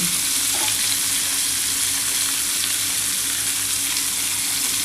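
Spiny gourd (kakrol) frying in a pan over low heat, a steady close sizzle and crackle filling the whole stretch with occasional stirring scrapes, no voices.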